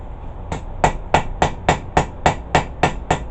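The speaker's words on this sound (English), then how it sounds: "Take out some of those hammer marks." Planishing hammer blows on sheet metal, about a dozen sharp, evenly spaced ringing strikes close up, with no talking.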